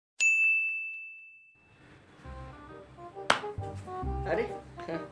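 A bright notification-bell ding sound effect strikes once and rings out for over a second, then music and voices follow.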